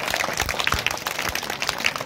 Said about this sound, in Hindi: एक बार मैं पुणे सर के लिए तालियां आपकी तरफ से बजवाना चाहता हूं